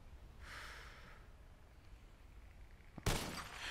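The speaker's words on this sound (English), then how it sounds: "You did hear the glass break, didn't you" Glass shatters in the Red Dead Redemption 2 video game, a single sharp bright crash near the end that follows a breathy snort-like sound, with no talking.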